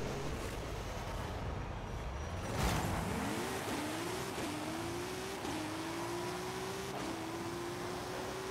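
A 1998 Toyota Supra with a drag-race tune in Forza Horizon 5 launches with a booming rush, then climbs through repeated rising revs broken by quick gear shifts, a steady loud engine drone with no talking.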